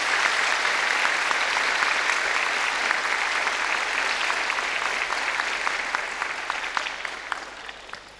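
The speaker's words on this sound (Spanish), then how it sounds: "les recibamos con un fuerte aplauso a estos hermanos" An audience in a hall gives steady, sustained applause to welcome debate guests, dense clapping that carries on throughout and tapers slightly near the end.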